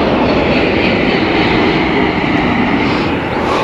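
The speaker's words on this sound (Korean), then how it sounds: "다 좋은데 고속도로 소음하고 KTX 기차하고 SRT 기차하고 소음이 상당합니다." KTX and SRT high-speed trains pass near rural land in Gimcheon, South Korea. They make a loud, continuous broadband roar that stays steady for the whole stretch, with no talking.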